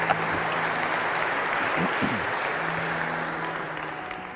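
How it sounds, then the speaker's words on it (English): An audience claps in a church talk setting, a thick, sustained roar of applause with a few brief voice-like tones rising through it midway, then slowly easing off. "Yeah, you better clap for that."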